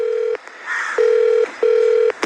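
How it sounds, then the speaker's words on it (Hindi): A mobile phone dials out with a sequence of long steady electronic tones separated by short gaps, loud and close, with no voices. "अभिमन्यु अपना मोबाइल निकालता है और कछुए को फोन करने लग जाता है"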